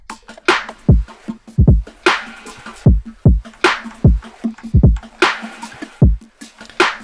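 Electronic drums and percussion play alone: a punchy kick and clap repeat in a steady, loud groove, with bright hits and fills between the beats.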